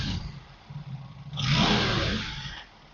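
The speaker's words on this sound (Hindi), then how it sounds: "एंड मैं बाइक के पास जाकर थोड़ा एक्सेलरेट करता हूँ" An Aprilia RS457 motorcycle engine, after a chain tensioner recall fix, idles and then is revved up once, swelling loud for about a second before dropping back toward idle.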